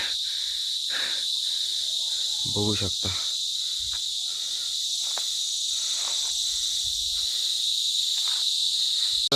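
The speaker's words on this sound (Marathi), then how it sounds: "जंगलात आल्यावर हे किडे काही गप बसतच नाहीत ओरडूच लागतात" Loud, continuous high-pitched insect chirring fills a forest trail in Bhimashankar sanctuary, with crickets buzzing steadily; a person speaks briefly and footsteps rustle underneath.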